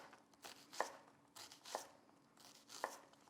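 Knife chopping through an onion on a cutting board in a French cooking workshop kitchen: three crisp, separate chops spaced about a second apart, close and clear with no talk.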